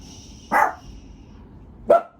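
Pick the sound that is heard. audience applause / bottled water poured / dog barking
dog barking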